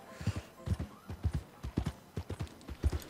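A horse in the video game Red Dead Redemption 2 walks at a steady pace, its hooves giving a quiet, even clip-clop rhythm of paired beats with no voices.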